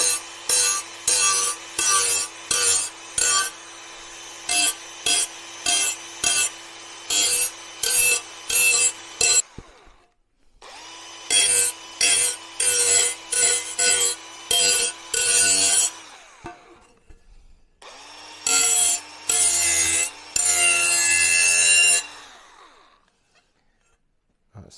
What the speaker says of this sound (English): I'm just going to take the burrs off the edge.